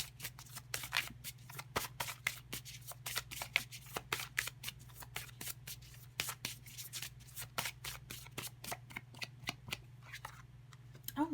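Tarot cards are shuffled and handled in a quick, steady run of crisp riffling snaps and slides, close and fairly loud over a low constant hum, with no talking.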